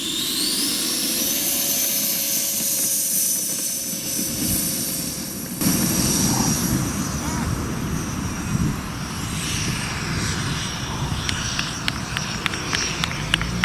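An RC F-35 model jet runs its engine with a steady high-pitched whine and roar throughout a long takeoff run on a windy day, heard close and continuous with wind noise underneath.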